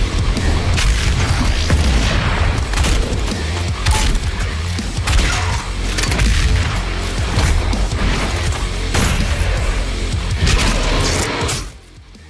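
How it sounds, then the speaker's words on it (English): Loud video game explosion sound effects, a dense run of booming blasts and crashing impacts layered over one another, continuous and heavy until a sudden cutoff near the end. "Cue explosions."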